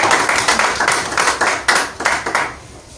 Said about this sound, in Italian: E quindi un grande applauso,